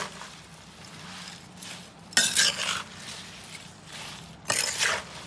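Mango pickle is stirred with spices in a pot or bowl, soft scraping and squishing of the coated pieces broken by two sharper bursts of metal spoon clattering against the vessel.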